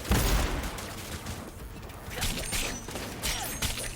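Cyberpunk 2077 firefight, bursts of gunshots crackling close and loud over a dense battle din, with a few louder cracks spread across the moment and little talk.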